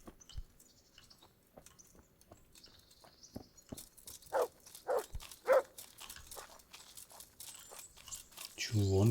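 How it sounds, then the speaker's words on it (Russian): In the video game Kingdom Come Deliverance, a dog gives a few loud, separate barks in the middle of the scene, amid footsteps and crunching sounds, with a voice rising at the end. "Чего он все гавкает?"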